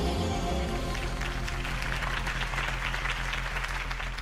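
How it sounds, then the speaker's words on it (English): Crowd applause after a campaign speech in the video game Batman The Telltale Series, a wash of clapping and cheering carried over loud background music for a few seconds. "If only Mr. Wayne, my campaign's largest backer, could have heard that applause"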